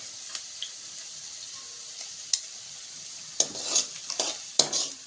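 Onion with cumin and turmeric frying in a pan, stirred with a utensil in a few scraping bursts over a faint, steady sizzle, near and alone with no talking.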